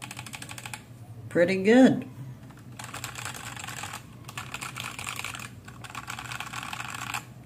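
Typing on an E-YOOSO Z11 budget 60% hot-swappable mechanical keyboard, a steady run of close clicky keystrokes in bursts, with a brief spoken comment over it near the start.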